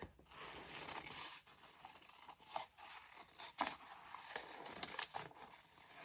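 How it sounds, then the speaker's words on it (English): Scissors snip through painted paper to cut out flower shapes, a run of quiet, irregular crisp cuts with paper rustling between them, close and soft. "maybe I can cut some of these out"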